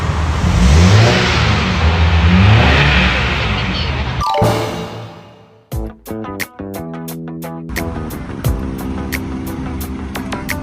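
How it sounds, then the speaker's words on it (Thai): A new red car's engine fires up at the push of the start button and is revved in surging bursts, then drops away into a series of sharp clacks and knocks. "สตาร์ทได้เลยค่ะ กดเลย เบิ้ลคันเร่ง"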